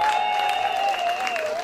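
Audience applause at a civil wedding ceremony, a short stretch of steady clapping beneath a sustained whistle or tone that wavers near the end.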